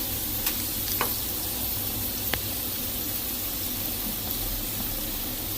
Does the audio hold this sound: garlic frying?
yes